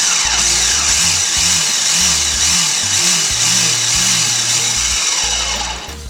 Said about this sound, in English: We're going to pulse it just a little more.